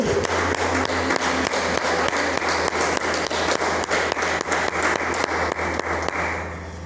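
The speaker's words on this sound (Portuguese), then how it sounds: "Pode aplaudir o Senhor" A church congregation applauds during a sermon, steady dense clapping sustained throughout at a fairly loud level, tapering slightly at the end.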